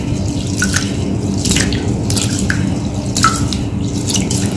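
Fenugreek seeds for dosa batter are rinsed in water in a kitchen, giving close, bright splashes and drips in irregular bursts over a constant wet swish.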